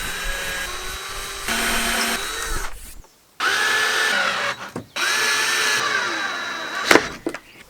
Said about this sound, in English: And because they're these giant screws, I'm going to pre-drill.